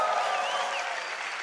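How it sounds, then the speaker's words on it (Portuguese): A brief burst of congregation applause at an evangelical church service, dense clapping with raised voices mixed in. "vamos aplaudir junto com eles."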